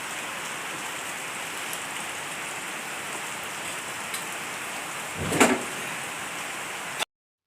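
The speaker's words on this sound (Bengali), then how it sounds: "এই দেখো বৃষ্টিটা" Steady rain falls close by outside a garage on a morning, a constant soft hiss of drops on surfaces, with one brief louder knock or clatter near the end.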